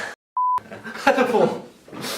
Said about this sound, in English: that's another beep